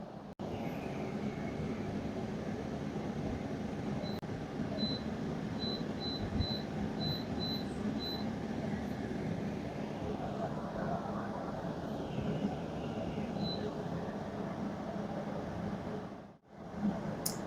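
A portable room air conditioner runs with a steady, fairly quiet broadband whoosh and low hum, with a few faint high beeps partway through and a brief dip near the end.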